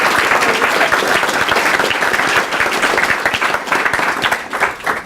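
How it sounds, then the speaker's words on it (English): A live audience at an evening legal education program on gerrymandering gives a panel a loud, dense round of applause that fills the whole span, with many hands clapping continuously, only thinning slightly near the end. "a very robust round of applause for this wonderful panel"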